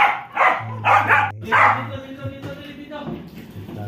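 Pet dogs bark in a quick burst of three or four loud, close yaps, then trail off into softer whines and yips, with a person's voice murmuring alongside.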